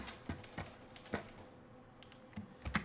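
Several separate keystrokes on a computer keyboard, a few sharp clicks spread irregularly with pauses between them, close and clear with no talking.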